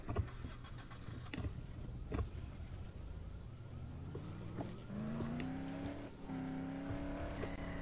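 A car engine revs and whines in the Dead Island zombie game, the tone climbing as the vehicle accelerates, with scattered thumps and clatter around it, moderately loud and close.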